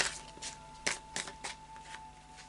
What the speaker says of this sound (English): I'll just do a final shuffle now of the Tarot of Dreams.